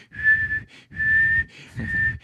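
A human voice imitates a police whistle with three sharp, shrill blasts, each about half a second long, separated by brief pauses, loud and close.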